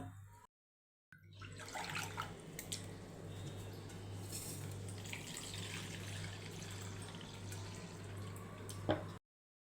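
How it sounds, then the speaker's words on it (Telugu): Idli rava (semolina) being washed in water, a steady wet swishing and dripping over a low constant hum, continuous after a brief silent gap near the start. "ఇలా తీసుకున్న ఇడ్లీ రవ్వను ఓసారి శుభ్రంగా వాష్ చేసుకుందాం."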